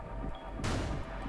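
A single sharp gunshot cracks out partway through a round of the tactical shooter Rainbow Six Siege, abrupt and loud over the game's steady background ambience.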